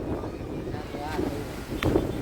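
Strong gusting wind rushing across an open outdoor spot ahead of rain, a steady low roar with buffeting against the microphone and a louder gust near the end, with voices talking over it.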